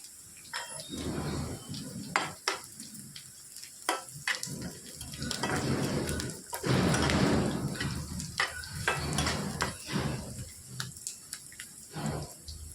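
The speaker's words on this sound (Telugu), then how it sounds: "ఇందులోనికి ఒక రెబ్బ ఫ్రెష్ కరివేపాకు వేసుకోవాలి." Fresh curry leaves crackle and sizzle in hot oil for a capsicum masala gravy, a steady close hiss punctuated by sharp pops and spatters, swelling loudest midway.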